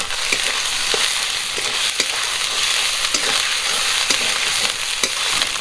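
Masala spice paste sizzles steadily in a pan for a chicken gravy, with a dense broadband fry hiss and regular scraping stirs knocking at intervals, close and loud with no talk.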